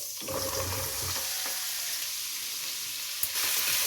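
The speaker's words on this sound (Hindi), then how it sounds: "इसको इसमें ऑयल में फ्राई कर लें" Cut, washed cauliflower pieces frying in half a cup of hot oil for aloo gobi, giving a steady, close sizzle and crackle throughout, with a brief utensil clink near the end.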